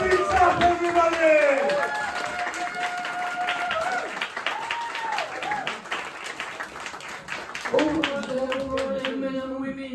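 A comedy club crowd at Lollypops in Hammersmith claps steadily to welcome comedian Andy Zapp, a dense ongoing patter of applause under a loud announcer's voice.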